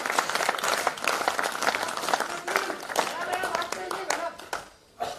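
A kavi sammelan crowd claps in steady, dense applause that carries on for several seconds before cutting off sharply near the end.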